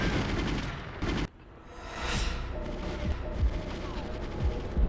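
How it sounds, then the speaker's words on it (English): Dense, rumbling gunfire and explosions from a military video game mission aboard a train, a continuous loud fusillade that briefly drops out, then swells back with scattered heavier thumps. "I swear those were bullets from behind."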